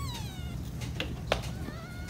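Newborn kittens meowing, several thin high-pitched mews rising and falling in quick succession, close by and clear over a soft background hum.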